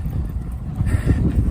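Wind gusting on a mountaintop along the Appalachian Trail, buffeting the microphone with low rumbling blasts that rise and fall in quick surges, loud and close.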